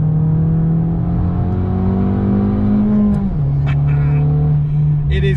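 A close, loud Abarth 695 engine sustains a steady drone on twisting mountain roads in the Black Forest, with its pitch dropping once partway through as if the car changes gear.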